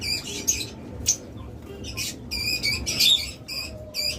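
Caged farm birds such as lovebirds, cockatiels and budgerigars give sharp, high squawks and chirps in scattered bursts over a steady low background hum, fairly close and moderately loud.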